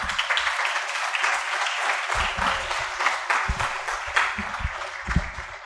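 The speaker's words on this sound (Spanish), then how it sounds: "reiteramos el aplauso para don Jaime" An audience at a school humanities and science seminar applauds a speaker, a dense, sustained burst of many hands clapping at close range, with a few stronger claps near the end.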